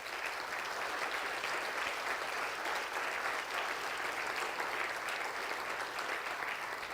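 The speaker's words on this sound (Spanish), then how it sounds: "Dale un aplauso al Señor." A church congregation applauds at a Sunday service, steady dense clapping sustained throughout at a fairly loud level with no talk.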